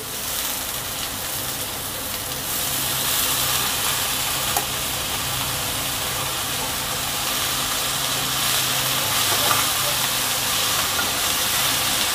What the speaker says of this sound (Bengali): এবার এর মধ্যে পুঁই শাকগুলো ঢেলে দেওয়া হচ্ছে।